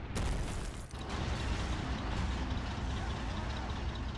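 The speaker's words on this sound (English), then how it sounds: "Oh, my Stug's shooting." Booming cannon fire from a StuG assault gun in the World War II strategy game Men of War: Assault Squad 2, a dense, loud rumble with a sharp blast near the start, layered battle noise throughout.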